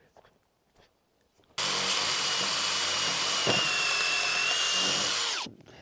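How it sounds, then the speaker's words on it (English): A drill pre-drills metal roof sheets on an off-grid cabin build, one loud steady whine running about four seconds alone, then spinning down, with a short wavering tone near the end. "Awesome, we just pre-drilled the whole metal roof."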